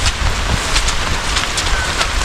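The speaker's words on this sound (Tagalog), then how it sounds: "Ayun, balik nga naman sa ulan" Steady rain pouring down close by, a dense, even hiss of falling water with a faint gusty undertone throughout.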